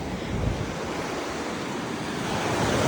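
Sea waves wash against cross-shaped breakwaters on a shoreline in a constant roaring surge, with some wind buffeting the microphone and a build toward the end.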